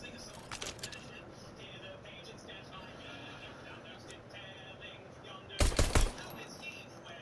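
Gunshots in Fortnite: a faint burst early on, then a loud cluster of rapid shots near the end, set against a low steady game background.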